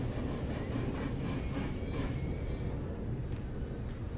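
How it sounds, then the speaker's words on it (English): A small train rolls along rails in the railway-building video game Transport Fever 2, making a steady, close rumble. High wheel squeal drifts over the track noise, and no one speaks. "Look at that cool little train."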